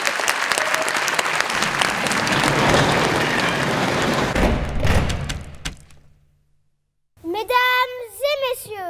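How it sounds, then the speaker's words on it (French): Audience applause at a municipal event presenting newly elected officials in Brunoy, loud and dense for about five seconds, then fading into silence before a voice begins speaking. "vous pouvez les applaudir et les remercier."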